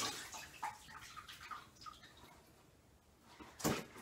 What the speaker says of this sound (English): now I'm gonna dunk it in the water